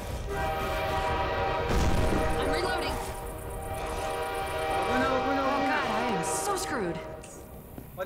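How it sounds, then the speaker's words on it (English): A train in the Left 4 Dead 2 video game arrives at a station, its horn blaring in long sustained chords over rumbling rail noise and clatter, loud and close, while players talk over it. "ayan na yung train, ayan na yung train"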